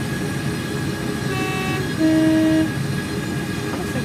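A Class 700 electric multiple unit's horn sounds in the Train Simulator game, two short tones sounding over steady train running noise: one faint, then a louder, longer blast lasting about half a second.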